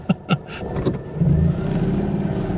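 A Citroen 2CV car on a hill climb: two short sharp knocks at the start, then a steady, low engine drone that is moderately loud and close for the rest of the time.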